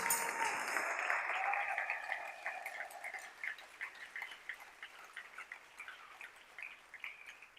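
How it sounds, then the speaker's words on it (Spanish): Church congregation applauding after a sermon, a burst of clapping that fades into scattered, thinner claps and sparse taps over several seconds, fairly distant. "Denle ese aplauso al Rey."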